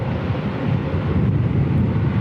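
Jet aircraft rumble at Christchurch Airport, a steady low engine roar carried on wind, distant and continuous with no voices.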